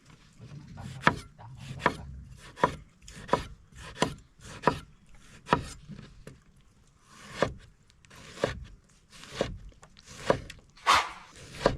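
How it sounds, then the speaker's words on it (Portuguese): Small tomatoes being cut on a wooden board, a steady series of about fifteen sharp knife chops spaced roughly evenly, close and clear with quiet gaps between strokes. "A gente vai cortar o tomatinho também aqui, ó."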